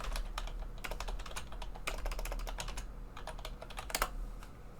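Rapid keystrokes rattle on a computer keyboard during network lab configuration work, a steady close-up stream of clicks that never pauses, with no voice over it.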